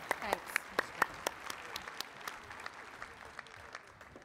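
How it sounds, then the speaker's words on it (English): Scattered clapping from an audience at a Women in AFCEA award ceremony, a burst of sharp claps that thins out and fades over a few seconds. "Let's give another round of applause for Jackie and for Martin"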